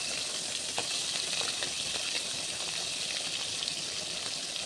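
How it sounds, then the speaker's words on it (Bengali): Dried fish frying and being stirred in a pan, a steady close sizzle with stirring scrapes and no talk. "তো এখন আমি শুটকিটা ভাজি করে নেব।"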